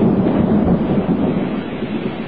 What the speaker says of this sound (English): as you could probably hear by the thunder